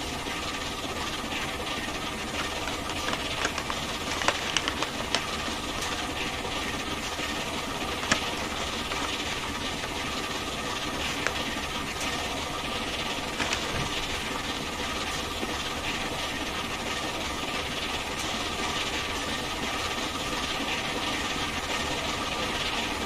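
Steam locomotive climbing a slight uphill grade on the Fife Circle route in Train Simulator 2021, a steady loud rumble and hiss of engine and rails running continuously with occasional faint clanks.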